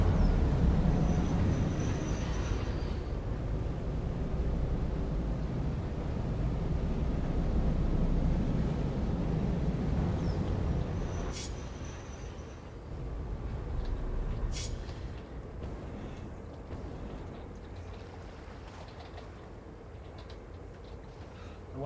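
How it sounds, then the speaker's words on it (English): A low, rumbling train in the video game Satisfactory pulls out with heavy mechanical noise that gradually eases and fades, leaving a quieter hum with faint clicks. "Pull the train out."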